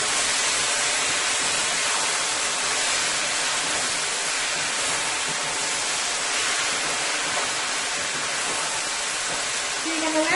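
Scallion and tomatoes sizzle with karela in a hot pan, a steady loud hiss of frying oil continuing unbroken for about ten seconds without any voices.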